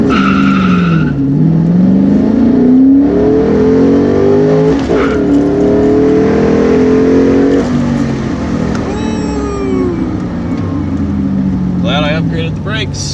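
Ford Mustang launching hard with traction control on, engine revving loud and close with rising pitch sweeps and brief tire chirps, voices talking over it.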